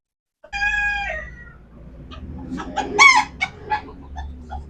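Roosters and hens of a decorative Hungarian-line chicken breed, with one loud, close crow near the start followed by a jumble of clucks and calls from several birds.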